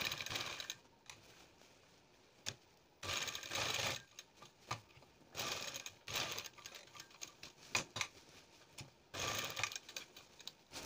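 A sewing machine runs in several short bursts while stitching a pattern onto a blouse back neck, separated by pauses and small clicks, close and fairly quiet.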